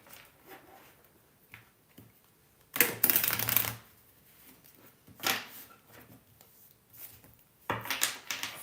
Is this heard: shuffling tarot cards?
yes